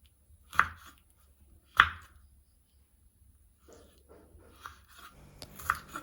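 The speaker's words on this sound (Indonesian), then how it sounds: "Untuk bahannya kita iris-iris dulu ya teman-teman" A knife slices tomato and chilies on a board in a few sharp, separate cuts, with quiet gaps between them and lighter tapping toward the end.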